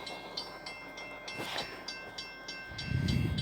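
A BNSF freight train rolls past at a railfanning spot, its wheels clicking rhythmically over rail joints with a steady rumble and a low surge near the end, no voices.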